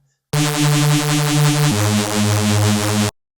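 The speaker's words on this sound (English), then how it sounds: "What I have here is I've dragged in a bass sound" A thick, buzzy drum and bass synth bass holds one sustained note, then drops to a lower one, loud and isolated with an abrupt start and stop.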